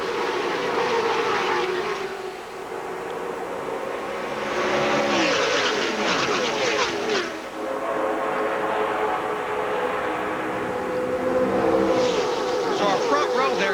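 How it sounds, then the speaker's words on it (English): NASCAR stock cars race at the 2007 Bud Shootout, their engines a loud continuous roar that swells as the pack passes, with a steady crowd and track din under a commentator's voice. "13 laps to race when they get to the line, and Kyle Busch is on it and in a hurry."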